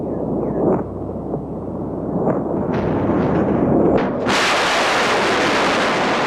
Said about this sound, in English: The noise, heat and light as the missiles blast upwards above the Adriatic have become so routine